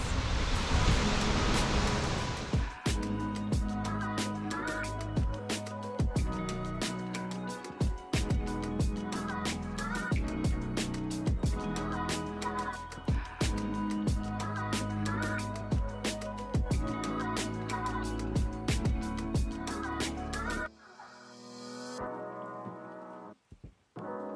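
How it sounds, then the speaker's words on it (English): Rainbow Falls, a waterfall near Hilo on Hawaii's Big Island, gives a steady dense rush of falling water, loud and continuous. The rush cuts away near the end to quieter ambience. "Our last waterfall for the day, just a couple of minutes from downtown Hilo, are the Rainbow Falls."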